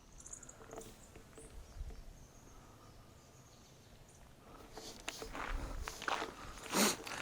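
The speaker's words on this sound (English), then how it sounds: "when I'm outside walking on the gravel is the gravel underneath your feet" Footsteps crunching on gravel outdoors, a soft continuous scuffing that grows louder and busier toward the end, with faint bird chirps and distant background noise.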